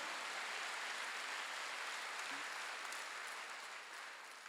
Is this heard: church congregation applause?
yes